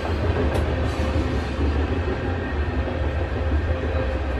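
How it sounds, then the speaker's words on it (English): A train rolls past a campground in Illinois, a loud, steady rumble with continuous wheel and rail noise holding through the whole stretch without letup. "The train's going by."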